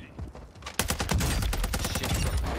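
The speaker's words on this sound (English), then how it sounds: "Two more sniper shots." Warzone 2 gunfire with sniper rifle shots in a battle-royale match: a faint stretch gives way to a loud burst of dense, rapid, close reports that continues to the end.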